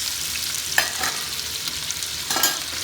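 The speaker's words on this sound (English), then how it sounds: "We'll saute this for a minute." Onions and ginger sauté in a hot pan for chicken tamarind soup, a steady close sizzle with a few stirring scrapes and clinks, no voices.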